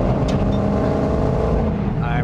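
A 2023 Dodge Demon 170 accelerates hard, its dense, loud engine roar steady and close throughout, with rising tonal whine near the end and a brief voice in the cabin.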